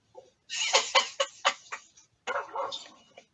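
Dog barking indoors, a rapid run of close, loud barks that breaks off and then resumes briefly, with no talking.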